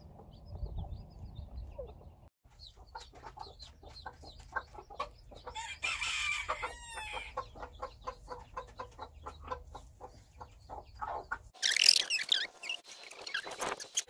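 Chickens clucking with a rooster crowing inside a farm hen house, brief crows and scattered clucks rising over a steady low hum, with a loud burst of flapping near the end.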